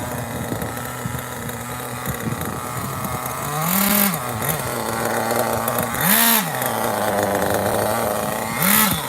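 Kyosho RC buggy nitro engine running close up with a high, buzzing whine at idle, blipped to a sharper rev three times.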